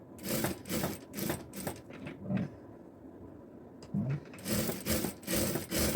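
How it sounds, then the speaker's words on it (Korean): A sewing machine runs a first pass of a French seam along a jacket's welt pocket, in bursts of fast rhythmic stitching broken by short pauses, fairly close and steady, with no talk. "반대쪽 중심까지 한번 통솔의 첫 번째 재봉을 해 주십니다"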